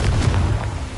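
Confringo spell blast in the game Hogwarts Legacy, a single loud booming burst with a deep low rumble that fades over about a second.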